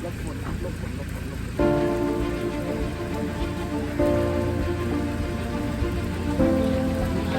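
Steady heavy rainstorm pours down continuously at a hillside temple in Chanthaburi, Thailand, a dense hiss of drops on surfaces, with a faint tonal hum running underneath.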